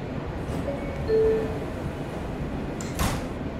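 A subway car's sliding doors rumble shut with a brief chime-like tone, followed by a soft thump as they close, amid steady train hum.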